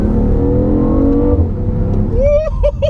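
A 2017 BMW hybrid supercar with an LS V8 swap pulls hard, its engine droning loud and close as the pitch climbs and then drops at a gear change. A brief higher whine follows.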